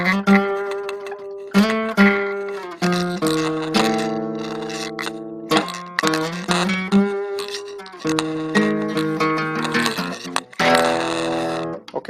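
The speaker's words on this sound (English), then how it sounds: "I'm using whole tone scale, which make it much darker and dissonant. And it's played by the cello." A solo cello plays a dark, dissonant whole-tone melody for a goat-themed blues piece, sustained bowed notes in phrases separated by brief breaks, close and clear with no talking.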